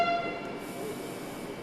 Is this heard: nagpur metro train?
yes